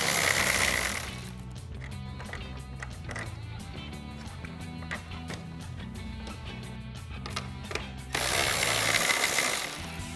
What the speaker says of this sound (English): So we'll grab a 10mm socket with an extension to get these off.